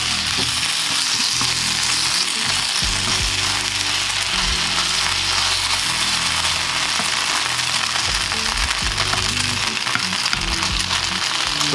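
Vegan ribs coated in barbecue sauce sizzle steadily in a hot frying pan, a loud continuous crackle with stirring clatter and no speech.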